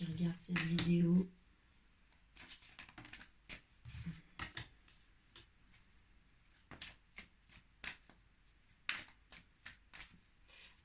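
Oracle cards being shuffled by hand, a loud riffle at the start followed by scattered soft flicks and taps of cards, close and intermittent, with no voices.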